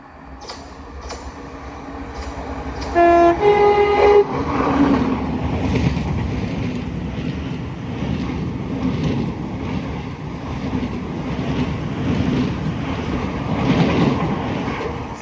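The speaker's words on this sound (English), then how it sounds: "The train now approaching platform 2 does not stop here." Train running through South Croydon station platform without stopping, a loud sustained rumble and rush that builds and holds. A brief horn-like tone sounds near the start.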